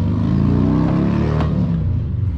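A 2013 Volkswagen Jetta Sportwagen TDI diesel with 63K miles pulls away, its engine rumbling steadily and close, rising slightly as it accelerates with no talking.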